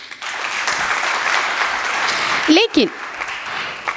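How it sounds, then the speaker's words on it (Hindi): Audience applause at a Hindi poetry recitation about women, sustained crowd clapping filling the hall, with a voice briefly speaking over it near the end. "अपने लिए ताली बजाइए।"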